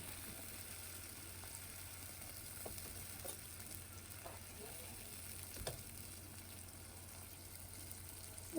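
Ginger and cumin paste sizzling in a hot pan for a hilsa fish curry, a steady soft frying hiss with faint stirring scrapes throughout, fairly quiet and continuous.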